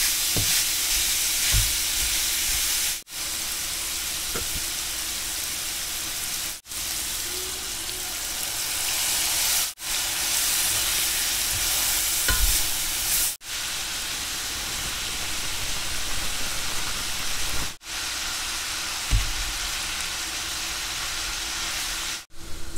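Pork sausage fries for a keto egg roll in a bowl, a continuous loud sizzle and hiss close up, with stirring clatter and a few short pauses at regular intervals.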